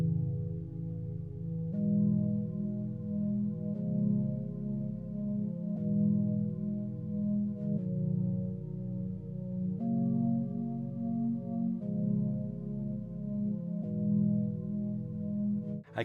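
A chopped, pitched-down beat loop repeats in roughly two-second phrases, with warm, muffled low chords and bass notes cycling steadily for the whole stretch, no voices over it.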